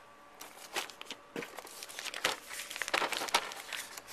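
A Pressman Deluxe edition board game box being opened: close, irregular crinkling and crackling of plastic wrap being pulled and torn in quick bursts, growing busier toward the end.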